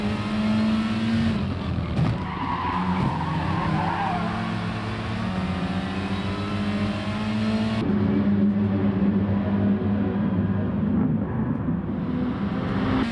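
Race car engines roar continuously in a Gran Turismo Sport daily race at the Red Bull Ring, a pack of five cars including a Peugeot RCZ Gr.4 battling closely, with steady loud droning and pitch shifts as they corner.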